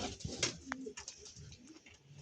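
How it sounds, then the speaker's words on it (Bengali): Pigeons in a loft give soft, throaty coos, a few short low calls at close range over quiet background rustle and a faint chirp or two. "এই হচ্ছে বন্ধুরা পায়রা, 3টেই নর পায়রা আছে"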